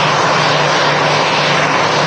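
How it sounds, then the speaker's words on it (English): An EasyJet airliner arriving at Manchester Airport, its engines giving a steady, loud, continuous broadband roar with a low hum throughout, no voices present. "just got this EasyJet coming in."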